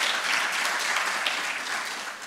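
Steady audience applause at a business plan competition finals as the third prize winner is announced, a dense, even wash of clapping hands that holds at a moderate level throughout without voices over it.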